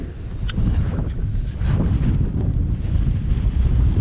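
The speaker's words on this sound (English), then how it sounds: "it's very windy, I don't want to risk getting blown off" Strong wind roars steadily across the microphone on Helvellyn's summit, a loud continuous rumble with gusty swells and no voices.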